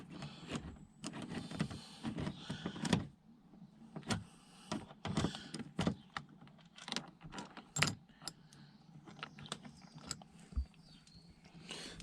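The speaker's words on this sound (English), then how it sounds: "I'm going to undo the 3 T30 screws" Torx T30 screws being undone by hand on a Saab 9-5 front door handle: a steady run of close, small metallic clicks and scrapes with irregular sharp ticks, with no one talking.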